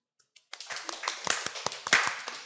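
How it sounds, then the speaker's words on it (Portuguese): An audience claps in a room at a pinball venue, a few lone claps at first, then a short, uneven round of hand claps from a small crowd. "Eu ouvi palmas?"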